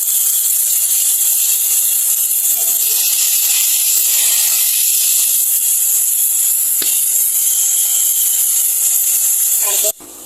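Water poured into a pan of lightly browned chopped onions sets off a loud, steady hiss of steam and sizzling that runs unbroken for about ten seconds, then cuts off abruptly near the end.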